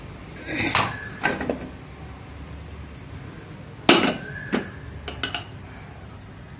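Lid lifted from a pot of cooked urad dal and raw rice, with a few sharp metallic clanks and clinks of pot, lid and spoon, close and loud, separated by quiet gaps.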